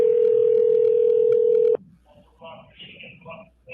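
A loud, steady telephone keypad tone holds for nearly two seconds while a PIN is entered, then cuts off abruptly before a voice speaks.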